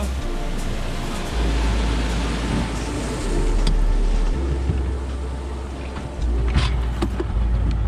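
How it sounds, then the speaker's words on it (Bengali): Sea waves rolling past a speed boat off New Digha beach, a broad rushing wash with wind buffeting and low surging thumps, steady and fairly loud throughout. "চলো, ঢেউ আসছে একটা।"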